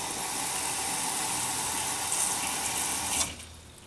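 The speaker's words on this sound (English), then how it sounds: "we take just regular water and just fill it up" Tap water pours steadily into a pot, a constant rushing hiss that cuts off abruptly near the end.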